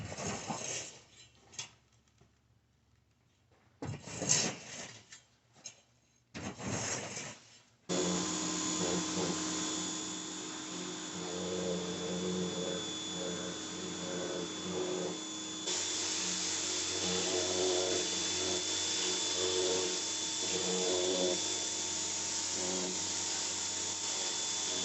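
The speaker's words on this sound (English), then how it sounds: "I'm going to power wash the deck." A few short bursts of loud motorized spray start and stop, then a pressure washer runs steadily and loudly without pause while cleaning a deck.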